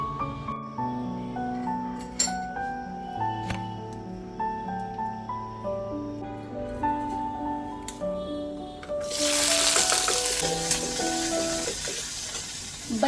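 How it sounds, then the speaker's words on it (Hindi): Sliced onions hit hot oil in a pan with a sudden, loud, steady sizzle that takes over after a stretch of soft melodic tones. "बस ये प्याज को थोड़ा सा फ्राई करना है"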